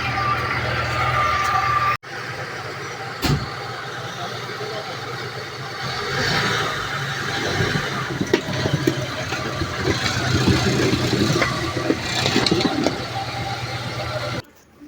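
A Lada Niva's engine rumbles steadily under broadband road noise as the vehicle drives, with a few abrupt thumps and cuts.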